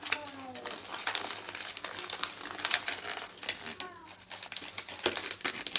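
Paper crinkles and creases in close, irregular bursts as a sheet is folded into a paper crane, with soft rustling throughout.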